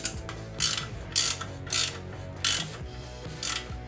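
Ratchet wrench tightening the exhaust bolts on a Vance & Hines PCX ShortShot Staggered motorcycle exhaust, close and loud, with short bursts of rapid clicking repeated about six times in quick succession, with no talking.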